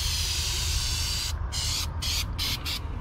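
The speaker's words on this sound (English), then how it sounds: "then we're going to spray this one down" An aerosol can sprays in a series of short hissing bursts on a truck camper, loud and close, over a steady low background rumble.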